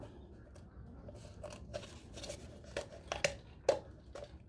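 Scissors cutting around the top of a plastic pot noodle pot, heard as close, intermittent snips and scratchy plastic crackles that grow sharper toward the end, with no talking.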